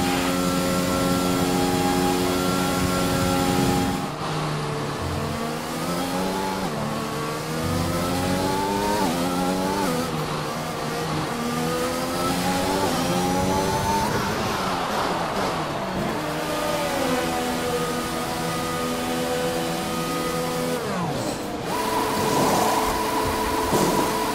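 Formula 1 race cars in the F1 2021 video game scream through high revs, with rising and falling engine pitch as gears shift and cars accelerate out of a corner, loud and continuous, with brief lifts off the throttle.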